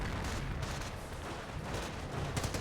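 Faint, dense crackle of battlefield gunfire from the World War II strategy game Company of Heroes, a continuous rumbling barrage heard at a distance without speech.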